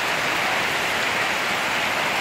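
Heavy rain mixed with hail pouring down outdoors, a loud dense unbroken hiss of water and ice striking surfaces, with no voices.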